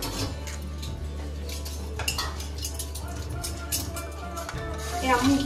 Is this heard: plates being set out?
yes